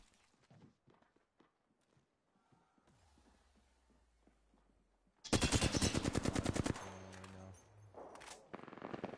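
Gunfire from a Kraber and other weapons in Apex Legends starts with faint footsteps and distant shots, then a loud close burst of rapid automatic fire breaks out, followed by further game effects.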